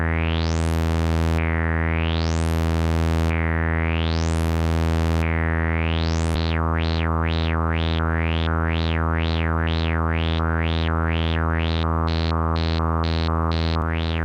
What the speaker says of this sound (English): that's the LFO, so it sounds like this